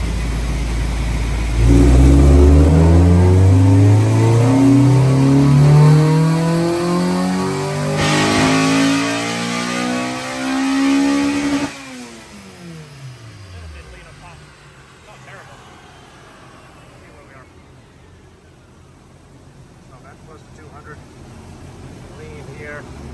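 A car engine on a dyno run climbs in rising harmonic sweeps for about ten seconds through its VTEC changeover, then cuts off sharply and spins down, loud and close, with a quieter hum left after.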